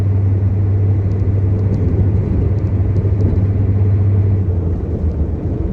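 An old truck engine, restored after sitting 22 years, idles steadily with a low rumble, loud and unbroken, with a constant droning hum underneath.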